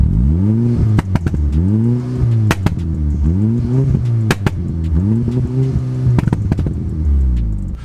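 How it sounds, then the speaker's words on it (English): A MK6 VW Golf R engine with a full Cobra exhaust idles with a deep, throaty rumble, blipped repeatedly into short, loud revs with crackling and popping between them. "Obviously, it's got a full Cobra exhaust system"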